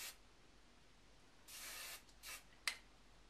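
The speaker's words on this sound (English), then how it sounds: "all of these flyaways I'm going to spray" Hairspray hisses from an aerosol can onto flyaways around a high top knot in a few short close bursts, with a quick final spritz.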